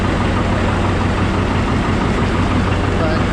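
A John Deere 730 diesel tractor engine idles steadily nearby, a loud, continuous low rumble that holds without a break.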